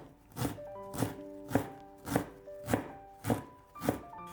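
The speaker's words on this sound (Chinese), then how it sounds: "再切成细丝，最后给它切成姜末" A kitchen knife minces a slice of pungent small yellow ginger into fine bits on a cutting board, with seven crisp, evenly spaced chops in a steady rhythm, close and clear, no voices.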